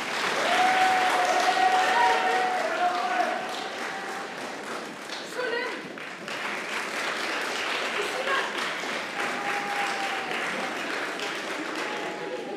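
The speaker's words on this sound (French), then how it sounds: "je vous demande d'applaudir, Marouane." An audience applauds a speaker at the semi-final of an eloquence contest, with steady clapping from a hall that dips briefly midway and then continues, while voices and a few whoops or whistles rise above it.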